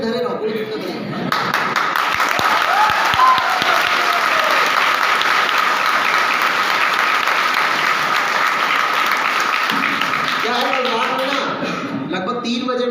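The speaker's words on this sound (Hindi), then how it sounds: "तो जवानों वाली तालियां चाहिए आप लोगों से" Sustained applause from a seminar audience fills the room, loud and steady for about ten seconds, with a few sharper claps at the start and voices resuming faintly as it dies away near the end.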